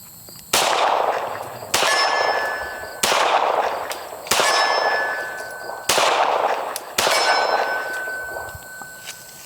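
Six pistol shots from a 1911 with iron sights at an outdoor range, each a sharp crack followed by a long, ringing metallic decay, evenly spaced about a second apart, loud and close.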